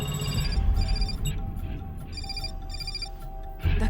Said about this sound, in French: Dr. Graham, votre portable.